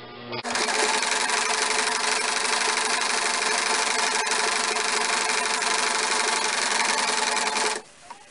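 Sewing machine runs continuously, stitching a simple folded hem on a long nun's veil, with a steady loud mechanical whir from start to a sudden stop near the end.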